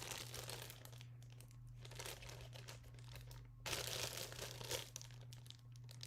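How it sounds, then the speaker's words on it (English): A plastic bag crinkles softly as a screw is placed inside it, with faint rustling bursts over a low steady hum. "we'll get ourselves a plastic bag, put our screw in it"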